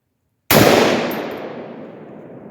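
A Palmetto AR-10 rifle fires a single 150 gr Freedom Munitions .308 round, a sharp, loud, close blast that snaps in abruptly after silence and then rings out in a long decaying echo.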